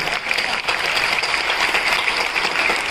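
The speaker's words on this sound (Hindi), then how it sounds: "तालियां कमजोर है आप लोग" Dense audience clapping fills a hall at a Hindi comedy poetry gathering, a steady, close burst of applause lasting a few seconds with no voice over it.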